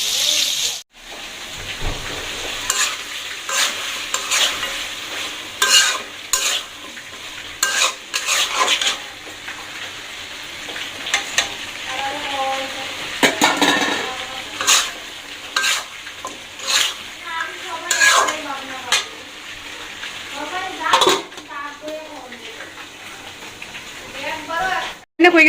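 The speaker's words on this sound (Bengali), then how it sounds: "আর এদিকে হচ্ছে আলু ভাজি মাংসের জন্য" Potatoes fry in a pan for a meat dish, with steady sizzling and occasional utensil scrapes running throughout while people talk over it at intervals.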